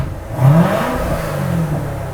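A car engine revs hard through a dual-mode exhaust in touring mode as throttle opens the valves, a loud, close, rising roar that swells quickly and then holds a steady rumble.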